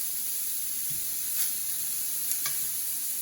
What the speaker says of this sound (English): We're just gonna give a nice sear to these.